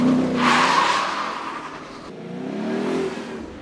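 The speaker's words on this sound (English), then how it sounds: "It's a hot lap with one of our professional drivers." Race car on a hot lap with a professional driver at the Hockenheim track during a Ford driving event. A steady roaring engine with squealing tires, continuous and moderately loud, with no talking.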